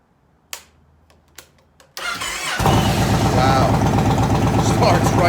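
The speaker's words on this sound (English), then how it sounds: "let's give it a shot and see if this bike starts up." A Yamaha Raider motorcycle engine starts up after a few clicks, catching quickly and rising into a loud, close, steady rumbling idle.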